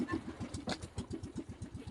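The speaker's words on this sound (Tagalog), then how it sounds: "Wow, andito pala yung makina." A boat engine runs close by on a trip to Nagsasa Cove in Zambales, giving a steady, rhythmic low chugging with regular pulses throughout and no talk.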